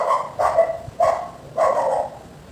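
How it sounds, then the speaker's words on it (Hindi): A neighbour's dog barks four times in an irregular rhythm, each bark loud and fairly close. There is no talking over it, and a quiet indoor background fills the gaps. "ये पड़ोसी का कुत्ता बहुत भौंकता है।"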